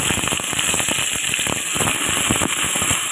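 Capsicum pieces fry in hot oil, giving a steady, close sizzling hiss with a dense crackle of spitting pops throughout.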